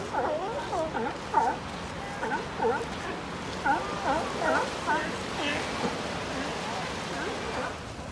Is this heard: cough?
no